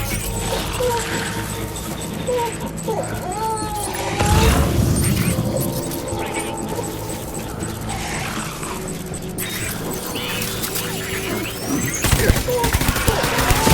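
Sustained gunfire rattles through a shooter video game battle, overlapping bursts and volleys under a constant roar, with brief voices in between.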